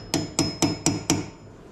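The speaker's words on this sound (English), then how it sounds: "So I take my hammer again" A hammer taps a brake pad retaining pin into a Brembo caliper, five sharp metallic strikes at an even, steady pace, close up and clean, with no talking.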